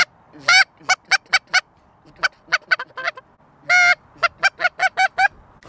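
A hand-blown goose call imitating honking geese, sharp loud honks in short rhythmic bursts with pauses, close by and outdoors while hunting, with no talking.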